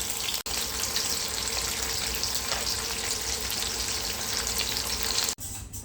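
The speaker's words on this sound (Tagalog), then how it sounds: "niluluto ko din yung longganisa." Longganisa sausage fries in a pan with a loud, continuous crackling sizzle, briefly cut off near the start and again just before the end.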